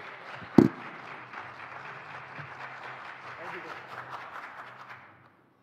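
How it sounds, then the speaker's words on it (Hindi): Audience applause at a televised Hindi panel event, a sharp thump near the start, then sustained moderate clapping that fades out near the end, with voices mixed faintly underneath. "जोरदार तालियां आप सबके लिए भी।"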